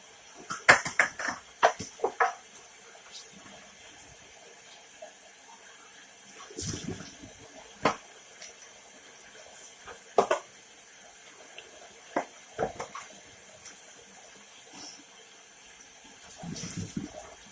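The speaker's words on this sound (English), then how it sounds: "sink full of soapy water for the bottles" A kitchen sink holds soapy water for washing baby bottles, giving soft intermittent sloshes, splashes and clinks against a quiet background.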